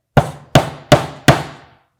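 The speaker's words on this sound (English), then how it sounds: "pick up your hammer, and tack in that first nail." A hammer taps a nail into the wooden corner of a DIY planter box, four sharp, evenly spaced strikes, each with a short ringing decay, close and loud with no talk.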